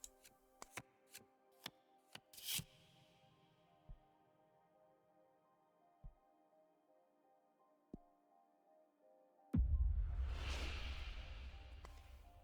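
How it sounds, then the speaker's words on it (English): A deck of cards shuffles in The Cosmic Wheel Sisterhood video game, crisp riffling snaps and a flurry of card flicks over a soft musical drone, then a whooshing swell near the end. "Shuffling time."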